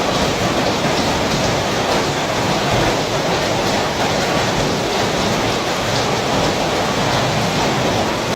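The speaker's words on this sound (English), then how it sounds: "Torrential rains, roaring winds, and a relentless bombardment of hail pounded both Islamabad and its twin city, Rawalpindi." Torrential rain and hail lash down in Islamabad, a dense, unbroken roar of heavy downpour that stays loud and steady throughout.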